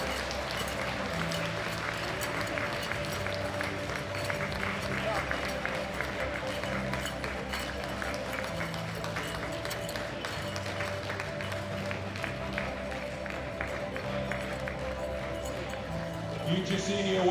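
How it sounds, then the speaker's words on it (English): Sustained applause from the crowd at a world classic powerlifting championship for sub-junior women lifters, a steady dense clapping wash lasting throughout, with an announcer's voice and arena noise mixed in. "Round of applause, please, ladies and gentlemen."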